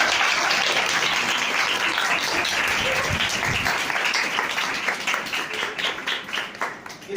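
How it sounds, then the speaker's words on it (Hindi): Loud congregational clapping at a Hindi-Urdu church service, a dense wash of applause that thins toward the end into more separate claps. "यीशु मसीह के लिए भी हम जोरदार तालियां बजाएं।"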